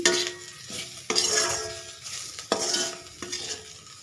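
Cauliflower fry with coriander crackles in a pan while a spatula scrapes and stirs it, several sharp metal strokes over a low sizzle, close up with no voices.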